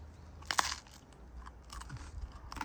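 Crunchy food being bitten and chewed up close, with a sharp crisp crunch followed by softer crackling chews, near and moderately quiet, no talking.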